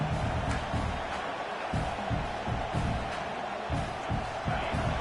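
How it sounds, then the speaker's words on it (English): A home crowd at a college football game between FSU and Michigan roars steadily in a large stadium, with louder swells and whoops rising over a constant broad wash of noise for the whole stretch. "this home crowd is fired up and ready to make a difference today"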